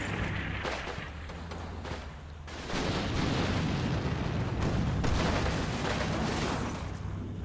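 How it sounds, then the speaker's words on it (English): Tank guns firing in the Combat Mission WWII strategy game set in 1945 Operation Sonnenwende, with heavy booming blasts and rumbling battle noise rolling continuously, growing louder midway. "Oh, my tank is already shooting at the SS, that's good."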